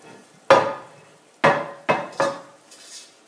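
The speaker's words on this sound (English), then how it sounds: "taking the meat" Minced meat? No: meat lifted out of a cooking pot gives four sharp metallic clanks of utensil against pot, spaced unevenly, close and fairly loud, then a softer scrape.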